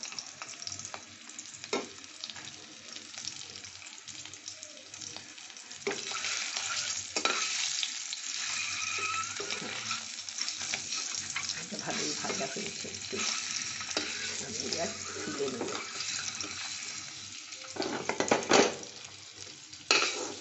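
Cauliflower pieces coated in salt and turmeric frying lightly in oil, a continuous soft sizzle and bubbling with occasional stirring scrapes and clinks of a spatula against the pan.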